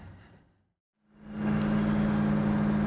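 A 1967 Chevrolet Chevelle SS with a 396 engine drives off after a short silence; its engine swells into a loud, steady drone with a constant low hum and broad road noise.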